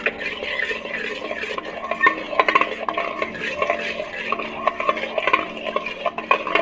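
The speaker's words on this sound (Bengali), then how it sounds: "আর ভালো করে একটু ফেটিয়ে নেব।" Yogurt being whisked by hand in a large pot for lassi, a rapid, uneven clatter of the whisk scraping and tapping against the metal sides, close and busy throughout.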